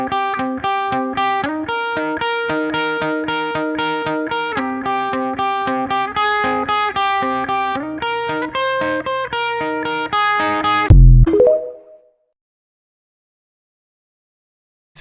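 A distorted electric guitar plays a fast, repeating riff, ending on a loud crashing chord that cuts off into silence.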